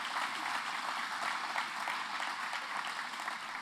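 Audience applause honoring youth center staff at a community awards ceremony, a steady, dense clapping from a full room that holds at an even level throughout with no voices over it.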